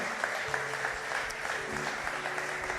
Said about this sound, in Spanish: Denle ese aplauso fuerte si es para el Señor.